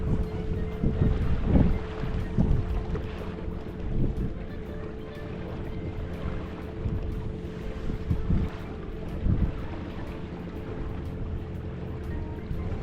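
A 2022 Alumacraft 185 Competitor boat cruises slowly at about three miles an hour, its low engine hum steady under wind buffeting the microphone and faint water sloshing, with no voices.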